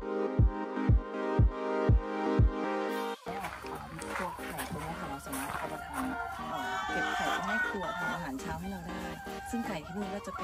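Hens and roosters at a laying-hen farm, first a few sharp rhythmic calls standing alone, then a dense, busy mix of clucking and crowing that carries on loudly throughout.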